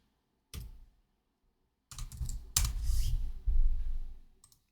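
Computer keyboard typing an AI video prompt, short bursts of close, crisp key clicks separated by brief pauses in an otherwise quiet room.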